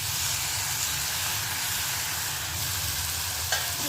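Dried shrimp (jawala) with brinjal, potato, tomato, chilli, ginger and garlic sizzling in a pan while being stirred, a steady loud frying hiss with a few scraping stirs near the end.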